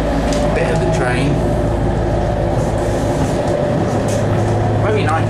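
A Greater Anglia Class 755 FLIRT train engine hums and drones steadily at close range, with rhythmic rail rumble and occasional squeaks throughout.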